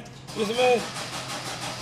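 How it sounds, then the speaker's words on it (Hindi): A Chevrolet Sail's engine starts with a brief broadband burst, then settles into a steady idle hum, with someone talking over it nearby. "अब हम इस गाड़ी को स्टार्ट करके दिखा रहे हैं"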